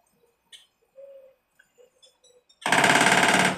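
Short calls and soft chirps from a small woodpecker begging for food, sparse at first, then a loud rapid drumming burst of hammering pecks close by.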